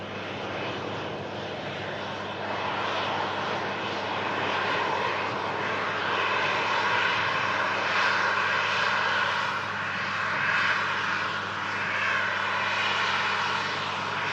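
A Jet2 airliner on the runway rolls past a runway visitor park with a steady, continuous engine roar that swells slightly and holds, alone with no talking.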